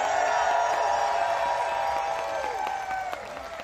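A huge protest crowd in the nation's capital applauds and cheers, a dense roar of clapping that slowly fades toward the end, with a voice carrying over it.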